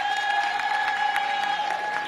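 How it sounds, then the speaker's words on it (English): An audience at an elementary school ribbon-cutting ceremony applauds continuously, a steady wash of many hands clapping at moderate distance. "Give her another round of applause for Grandma Daisy."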